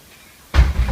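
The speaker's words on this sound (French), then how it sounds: "j'ouvre la porte à mon câlinou" A door is opened for a pet cat, giving a sudden close clunk and rattle after a quiet moment, followed by brief shuffling.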